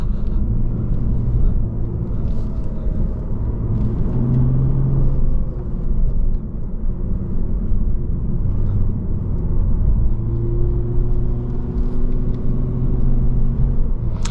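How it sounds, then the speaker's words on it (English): A 2022 Lexus RC350 F Sport's V6 hums with a low, steady rumble from inside the cabin while driving on a winding road, with active sound control switched off and a voice speaking over it at times. "I actually like how the car sounds with it off. It sounds more natural, like natural V6."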